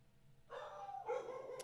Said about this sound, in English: I apologize Um, for the dog again.